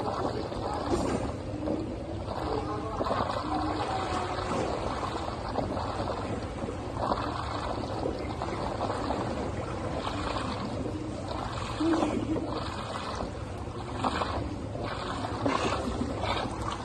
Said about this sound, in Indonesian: ini aktivitas gue saat berenang